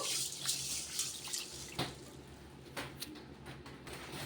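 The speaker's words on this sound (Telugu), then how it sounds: "ఈ బియ్యాన్ని పెసలని రెండింటిని కూడా బాగా 2-3 సార్లు వాష్ చేసేసుకుందాము." Water sloshing and splashing as rice and moong lentils are swished and rinsed in a bowl, with a few louder swirls and a running-tap background.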